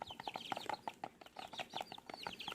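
Friendly tame chicken clucking close by while being hand-fed, a quiet string of rapid soft clucks and short calls in an uneven rhythm.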